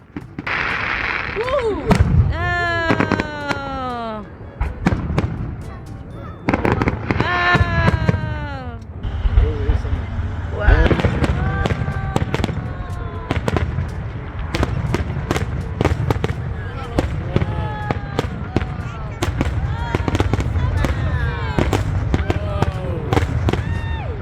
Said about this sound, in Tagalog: Nandito lang kami sa bahay nanonood ng fireworks show.